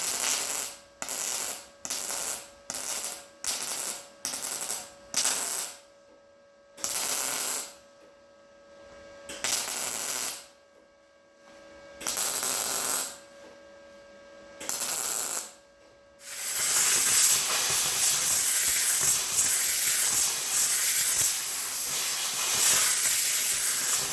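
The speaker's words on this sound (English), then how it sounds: "You see me just continuously welding." A MIG welder tacks and then continuously welds the door gap on a chopped 1949 Chevy Fleetline, first as a series of short buzzing, crackling bursts with pauses, then a long steady loud hissing weld close up.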